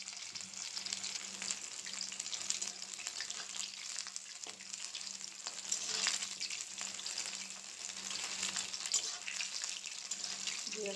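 Meat fries over a low flame with a soft, continuous sizzle and occasional light crackles, steady and fairly quiet throughout.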